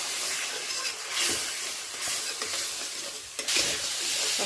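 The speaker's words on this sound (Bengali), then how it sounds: "সামান্য একটু জল দিয়ে কষিয়ে নিচ্ছি" Rice with a little sugar and water is stir-fried inside a pressure cooker, producing a loud, continuous hissing sizzle broken by repeated scraping stirs of a spoon against the metal.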